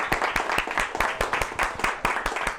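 A church congregation claps in unison during a Sunday service, a brisk rhythmic run of sharp, evenly spaced claps that stays fairly loud throughout with no voices.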